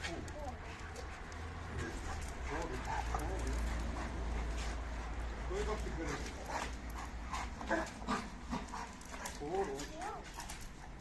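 A dog being introduced and trained barks and whimpers in short bursts amid near-constant talk from people around it.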